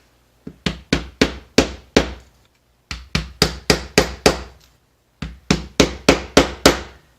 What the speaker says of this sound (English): just hit it with a wooden screwdriver